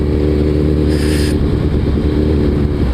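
A Suzuki Hayabusa motorcycle engine running loud and close, a steady heavy drone that holds a constant pitch with no clear gear shifts, over rough road noise.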